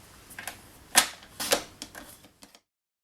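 A paper trimmer slices paper into one-inch squares for a card-making project, giving a few crisp, sharp cutting snaps and clicks over a couple of seconds, close and fairly quiet.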